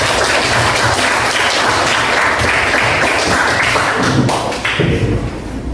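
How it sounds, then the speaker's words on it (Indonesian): A junior high school class at SMPN 2 Alas in Indonesia breaks into applause, a dense, steady wash of many hands clapping close by for the whole stretch, easing slightly near the end with no talking. "Mari kita beri aplaus atas kehadiran kita semua."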